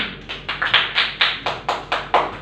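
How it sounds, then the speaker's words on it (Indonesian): A class of students claps in unison, about nine loud, evenly spaced bursts of claps in a steady rhythm, heard up close with no talking. "Tepuk tangan"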